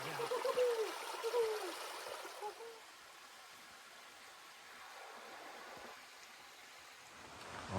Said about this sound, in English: we have made it to the Kennebec River